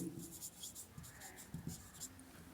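A pen moves over paper as someone writes out an accounting lesson by hand, giving soft, scratchy strokes in short irregular bursts, faint and close, with a quiet voice underneath.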